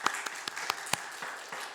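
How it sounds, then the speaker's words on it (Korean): A church congregation in Houston claps to welcome a visitor during Sunday worship, a light, scattered round of hand claps with a few sharper individual claps, fairly faint and brief. "우리 박수로 우리 환영하도록 하겠습니다"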